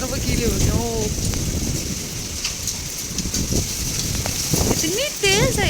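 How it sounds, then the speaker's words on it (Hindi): Heavy rain pours down during a storm with hail, a dense continuous hiss and patter heard throughout, while people talk over it. "आप लोग बारिश का वॉल्यूम चेक करें, अभी और ज़्यादा तेज़ हो गई है।"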